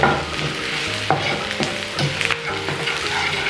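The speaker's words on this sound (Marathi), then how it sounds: "मिरची आणि कढीपत्त्याला सुद्धा व्यवस्थित असं फ्राय करून घ्यायचं आहे तेलामध्ये" Green chillies and fresh curry leaves frying in hot oil for a spicy egg masala, with a crackling sizzle and several quick stirring scrapes, close and clear with no talking.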